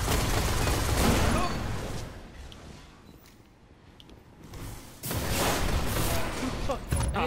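Video game gunshots ring out in loud, rapid bursts at the start, fade to a quieter lull in the middle, then return as another heavy burst of firing near the end.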